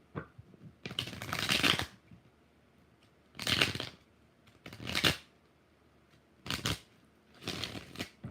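Tarot cards are shuffled in several short riffling bursts, each a crisp flutter separated by brief pauses.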